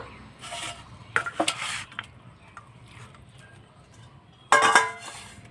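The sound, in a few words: chicken being poured into another pot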